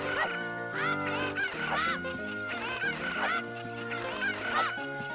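Cucco chickens in the Zelda Ocarina of Time video game squawk and cluck repeatedly in a loud, dense flock over game music, with no talk.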